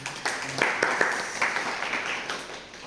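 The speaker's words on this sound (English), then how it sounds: "So please clap your hands for it." An audience of students in a lecture hall clapping their hands, a brief scattered round of applause with distinct claps over a roomy background, tapering off after a few seconds.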